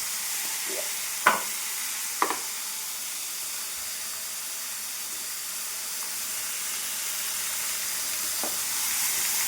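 Brinjal pieces frying in a pan make a steady close hiss and sizzle throughout, with a few sharp clicks of a spoon or lid near the start.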